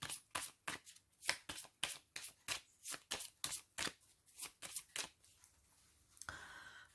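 Tarot cards being shuffled and cut to lay a covering card over the nine of spades, a quick run of crisp riffling bursts close up, then a short softer slide of cards at the end.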